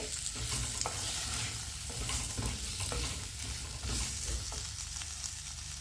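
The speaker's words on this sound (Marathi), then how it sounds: "ह्याला व्यवस्थित नीट मिक्स करते" A spoon stirs a clam curry with drumstick, potato and salt in a sizzling pan, scraping and clinking steadily over the constant hiss of frying, close up with no talk.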